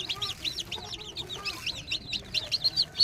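Young chicks of a farm-bought breed peep continuously, a dense flock of high, rapid chirps close by, with a few sharper, louder cheeps near the end and no talk.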